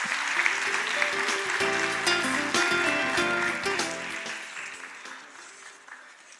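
Guests at the opening ceremony of the Jeju Forum applaud as former Indonesian president Megawati Sukarnoputri is welcomed to the podium, sustained hall clapping under soft background music that fades out toward the end.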